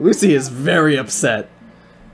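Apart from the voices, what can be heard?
No everyday noise stands out behind the speech.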